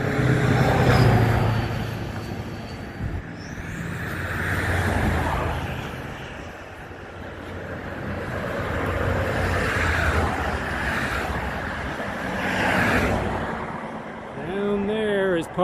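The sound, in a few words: holiday road traffic near bridge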